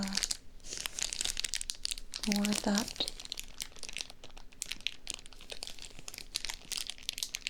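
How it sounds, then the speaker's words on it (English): Close, crisp crinkling and crunching of material in quick bursts, with a soft voice speaking briefly in the middle. "crunchy sound?"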